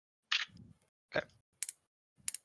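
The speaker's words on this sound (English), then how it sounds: "What's that clicking noise, my friend? It's a lighter." Four short clicks from a lighter, spaced unevenly, close and fairly quiet in an otherwise silent room, the later two crisper and sharper than the first.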